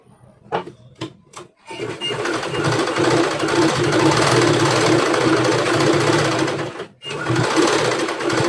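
A sewing machine stitches a boat neck blouse, opening with a few short separate bursts before settling into a long, loud, steady run of close stitching. A brief pause breaks it near the end, then the running resumes.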